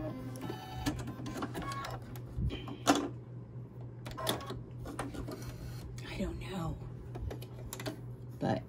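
An embroidery machine stitching on a rope coaster with a bent needle, a steady low hum under bursts of quick mechanical tapping, while a person talks over it.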